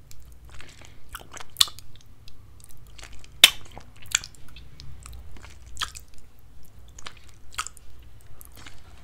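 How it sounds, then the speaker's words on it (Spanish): Close ASMR mouth sounds of yogurt being licked off fingers, with soft wet clicks and smacks scattered irregularly over a low steady background hum, no talking. "esa combinación de lamer el yogur"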